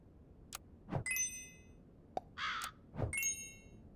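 Crow caws from the video game Super Auto Pets, two short electronic squawks spaced apart among soft clicks and taps, heard alone without talk.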